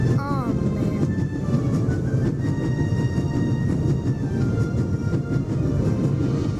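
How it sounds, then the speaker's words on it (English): A train races at full speed in The Raven – Legacy of a Master Thief video game, a loud, unbroken low rumble and clatter that holds steady throughout. "It will be suicidal to climb up there while the train is at full speed"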